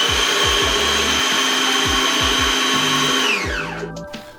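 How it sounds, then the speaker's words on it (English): A blender motor whirs loudly and steadily, with a rhythmic low thumping as cream cheese, salmon, pepper and lemon juice churn, then winds down at the end. "So to make the filling we're going to add cream cheese to a blender"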